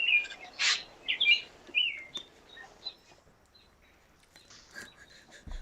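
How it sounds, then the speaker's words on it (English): Backyard birds give several sharp, high chirps and tweets in the first two seconds, then fainter scattered calls at a moderate distance in a quiet outdoor setting. "You hear the birds chirping in the background?"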